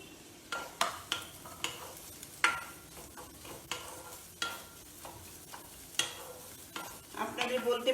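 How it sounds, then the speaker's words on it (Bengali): Chopped onions frying in hot oil, with a spatula stirring and scraping the pan in sharp, fairly regular strokes over a low sizzle, close and unaccompanied by talk. "এবার তেলটা গরমের সাথে সাথে পেঁয়াজ কুচিগুলো দিয়ে দেবো।"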